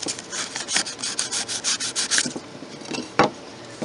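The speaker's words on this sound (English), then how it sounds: "I'm still gonna sand this a little bit." Wooden handles are sanded by hand in quick, close strokes that give a rhythmic raspy scrubbing, followed by a few scattered rubs and a sharp tap near the end.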